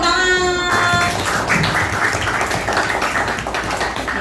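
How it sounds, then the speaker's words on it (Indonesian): Classroom applause after a student finishes reading aloud: a dense wash of many hands clapping close by, steady and unbroken, after a brief tonal sound at the start. "Berikan tepuk tangan"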